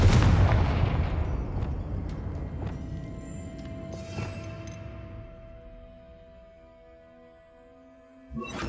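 A Confringo blasting spell explodes in Hogwarts Legacy with a loud booming burst that decays slowly into a ringing tail, followed by a second sharp blast at the very end.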